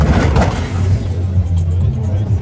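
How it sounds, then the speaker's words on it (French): A BMW fitted with an RB26 engine rumbles with a low, steady throbbing idle close by, while people talk over it. "c'est la BM avec le RB26. le bruit que ça fait, c'est un truc de malade."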